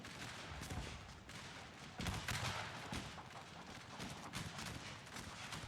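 Musket volleys in Shogun 2: Fall of the Samurai, as infantry lines trade fire: a continuous, distant-sounding crackle of many shots overlapping, with a heavier surge in the middle and no talk over it.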